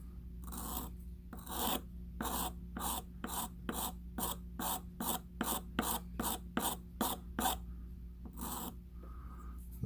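A chisel blade being honed on a sharpening stone, heard as a steady series of about sixteen crisp, evenly spaced rasping strokes, close and fairly loud over a low constant hum, with no talking.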